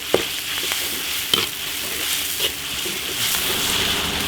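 Sichuan peppercorns and dried chilies stir-fry in a wok with a steady close sizzle, broken by a few sharp scrapes and clacks of the spatula, with no talking.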